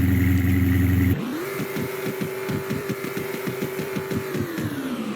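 A 2023 Dodge Charger in a video game cranks into a start-up, then settles into a steady, loud, rhythmically pulsing idle with no talking.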